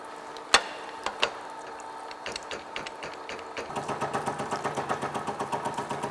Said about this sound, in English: Now the machine is cutting the side of hexagonal headbox